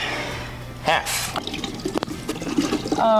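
Liquid splashes into a container as a full bottle of triple sec is dumped into a batch of Mai Tai, a steady close pour that gurgles and drips, with talk over parts of it.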